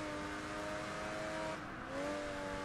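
A Ferrari Enzo race car in Project Gotham Racing 3 drones past with a steady engine whine, its pitch dipping and then climbing again as it goes by, fairly quiet and with no voices over it.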